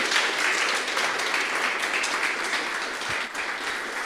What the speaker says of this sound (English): Let's give a round of applause for Diana.